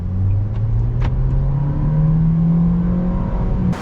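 A 2021 Nissan Kicks SR with its 1.6-liter four-cylinder accelerates, the engine note rising steadily in pitch as it pulls, loud and close, with a few clicks near the start.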